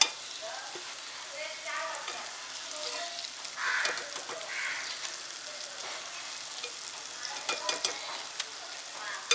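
Paneer balls frying in oil until browned over low heat, a continuous soft crackling sizzle with occasional light pops and stirring clinks, fairly faint and steady.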